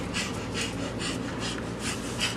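Rapid, rhythmic panting breaths repeat steadily, close and soft, with no talking.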